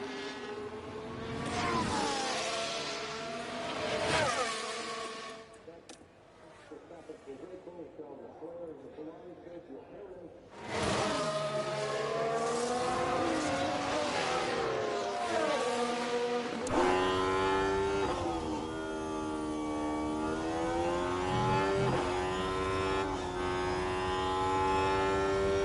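A Formula 1 race car engine screaming through a flying lap in the F1 Manager 24 video game at Lusail, with a loud rising and falling whine, gear shifts and a brief dip midway, while a voice talks over it.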